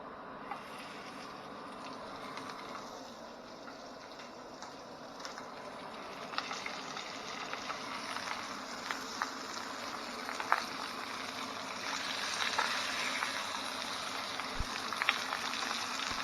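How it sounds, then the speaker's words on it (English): A steady, faint crackling hiss of salmon sizzling skin side down in a hot pan, with occasional small pops, continuous throughout. "Hear that sizzle."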